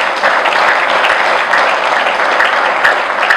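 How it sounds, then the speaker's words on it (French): Loud, dense audience applause at a political party congress, a continuous sustained wash of clapping from a large crowd with no talk over it. "ça mérite vos applaudissements."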